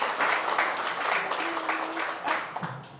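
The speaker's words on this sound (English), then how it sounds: "let's give them all a round of applause for the nominations" Audience at a monthly meeting applauding nominees, a steady wash of clapping for about three seconds with faint voices mixed in and a brief tonal hum.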